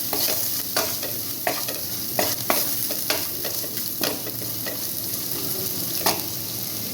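Spices and salt fry in a pan for a banana flower and shrimp cutlet, sizzling steadily while a spoon scrapes and stirs at irregular intervals, close by with no voices.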